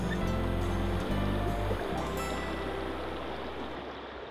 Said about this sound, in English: with the gentle sounds of the river carrying through the night